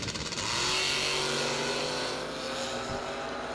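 Box door drag race cars at a drag strip roar loudly together, a dense, steady engine blare holding near and strong for a few seconds, with a faint voice barely underneath.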